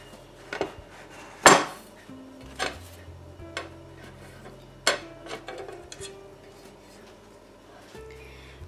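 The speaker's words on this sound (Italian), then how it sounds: "E la capovolgo su un piatto." A baked crostata tart is flipped onto a plate, making scattered clinks and clatters of dishes and cutlery, one sharp loud knock early on, then softer taps and scrapes with quiet gaps.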